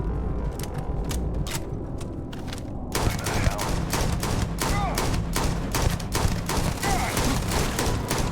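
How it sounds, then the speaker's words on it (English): Rapid gunfire in the video game Starfield, a dense fusillade of sharp overlapping shots and bursts that grows louder and busier partway through, with faint talk underneath. "I've noticed that the guns start to make slightly different sounds when the ammo is low."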